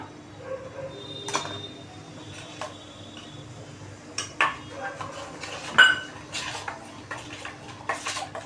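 Pani puri masala water with lemon juice, spice mix and pepper powder being stirred in a bowl, scattered light clinks and scrapes of a spoon against the bowl with quiet gaps between them.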